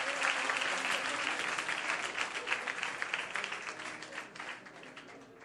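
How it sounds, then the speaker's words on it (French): A church congregation in Lomé, Togo, applauds the Lord with loud, sustained clapping from a crowd. The applause slowly fades toward the end. "On acclame le Seigneur"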